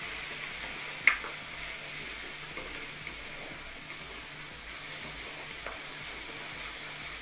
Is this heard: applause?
no